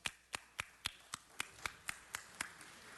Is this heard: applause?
yes